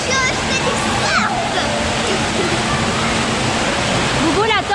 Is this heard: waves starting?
yes